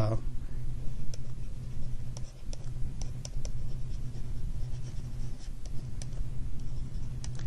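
Chalk or marker scratches and taps across a board during a calculus lecture on continuity, a run of quick strokes and clicks at close range with the room's low hum beneath.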